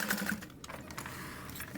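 Sewing machine stitching fabric: a short burst of rapid mechanical stitching, then quieter whirring and clicks, close and moderate in level, with no talking.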